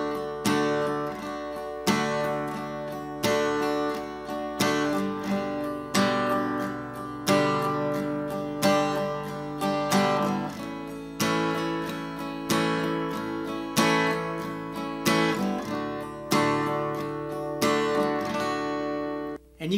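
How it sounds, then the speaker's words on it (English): Acoustic-style guitar strummed in a steady pattern, every second down strum hit harder so a regular pulsing accent runs through the chords, played alone with no talking. "I'm going to put more power into that second down strum."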